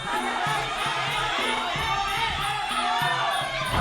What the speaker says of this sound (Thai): ฟังเสียงเชียร์ดูครับ